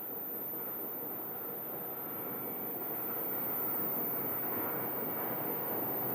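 A T-38 Talon military jet at an airport heard as a distant, steady broadband roar that slowly grows louder, with a faint high whine and no talking.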